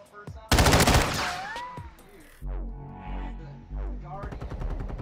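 Bursts of rapid gunfire from a first-person shooter, loud and dense near the start, then lower booming shots and rumbles while a voice talks over them.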